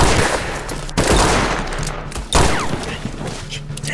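Loud volleys of gunfire from a western movie shootout ring out, a sharp burst near the one-second mark and another around two and a half seconds, with crackling shots and echoes between.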